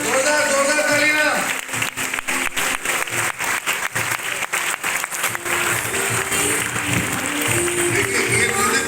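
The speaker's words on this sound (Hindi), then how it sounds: "जोरदार जोरदार तालियां।" Loud audience applause at an award ceremony, dense clapping with a rhythmic, pulsing run of claps in the middle, mixed with music and voices.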